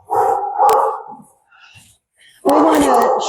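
Dogs at a doggie daycare bark and yip loudly and close by in two bursts, with quieter sounds in the gap between them.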